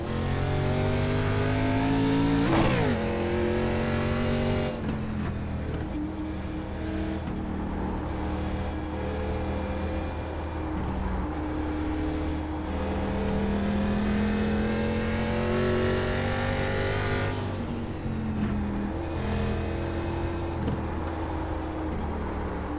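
A Chevrolet Impala race car runs on the Lucas Oil track, its engine droning loud and steady with revving swells and gear changes, sharp shifts near the start and again partway through, with no talking over it.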